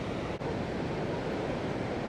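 Spray and roar from Niagara Falls form a dense, continuous rushing wash of sound, close and even, with a brief dip near the start and no talking.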